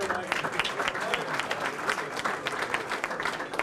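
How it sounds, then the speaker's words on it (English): Applause from a dinner audience at the Greater Meadville Area Day Dinner, steady clapping from many hands throughout, with some background voices mixed in. "Let's give them a round of applause."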